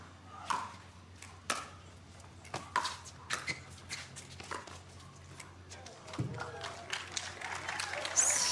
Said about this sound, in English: getting some reaction from the crowd